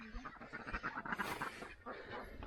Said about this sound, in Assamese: এইফালে হাঁহৰ গঁৰাল হয়